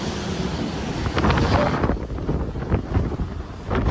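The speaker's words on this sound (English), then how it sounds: "And a lot of wind" Steady, strong wind buffeting the microphone on a cruise ship deck aboard the Carnival Horizon, a continuous roar with gusty rises and no talking.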